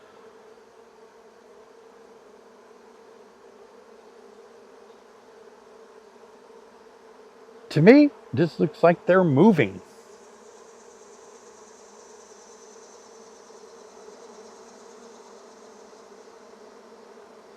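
Honey bees from a hive opened without smoke give a low, steady hum throughout. A voice talks briefly over it in the middle.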